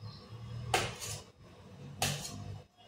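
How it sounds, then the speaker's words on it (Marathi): Knife chopping potatoes into large chunks on a home kitchen counter, two sharp close cuts about a second apart, each with a quick follow-up tap, over quiet room background. "आणि इथं आता मी बटाटा चिरून ठेवते. बटाट्याचं मोठं मोठंच तुकडं करणार आहे"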